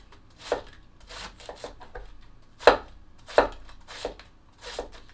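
A sharp Cangshan Thomas Keller Series chef knife slices through cabbage on a cutting board, giving crisp, crunchy cuts at an irregular pace, about eight strokes close by with no talk.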